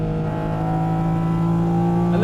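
A Porsche GT4 RS sports car engine pulls steadily under acceleration, its loud, smooth, rising mechanical howl held close throughout with no talking.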